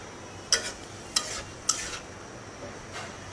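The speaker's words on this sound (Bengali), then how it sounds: "এখন সবগুলা উপকরণ একসাথে নেড়ে চেড়ে মিলিয়ে দিব" Bitter gourd fry ingredients being stirred together in mustard oil: three crisp spatula scrapes against the pan over a low, steady sizzle, nearby and without talk.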